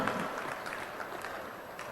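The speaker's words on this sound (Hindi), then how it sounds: "एक साथ जोरदार तालियों से आइए हम इस लोकार्पण में शामिल हों" Dense, steady applause from a large crowd at a stadium event for a municipal fund launch, a continuous wash of many hands clapping with no gaps, moderately loud and distant.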